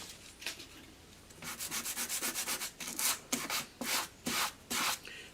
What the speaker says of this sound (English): we can try that with a piece of sandpaper